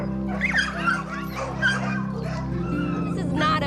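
A sick, rescued pit bull whimpers and yips in high, wavering cries, close and fairly loud over a steady low hum, with a few short bursts spread across the few seconds.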